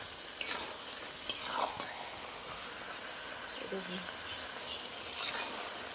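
Cabbage for a Bengali ghonto is stir-fried in a pan, making a soft, continuous sizzle broken by a few light scrapes and taps of a spatula, with quiet talk in the background.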